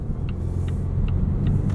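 A 2021 Volvo V90 Cross Country T6 AWD with a 4-cylinder engine and 8-speed automatic, heard from inside while driving: a steady low engine and road rumble throughout, with faint periodic ticks above it.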